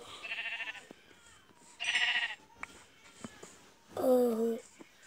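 Sheep bleat in a video game: three distinct, fairly close bleats, the last one loudest, separated by quiet gaps with faint clicks.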